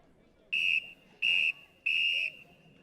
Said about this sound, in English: So we'll get a few loud whistles now.